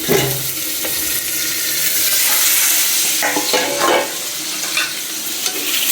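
Potatoes frying in a pan, a steady loud sizzle running throughout with a few stirring scrapes partway through; no talking.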